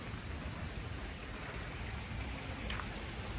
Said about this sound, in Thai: ตกคักตกแน่พี่น้องเอ้ยฟ้าไหมฝนไหม